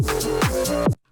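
A UK bassline played straight, without swing: three deep synth bass notes with sliding pitch bends, loud and close, ending abruptly in silence.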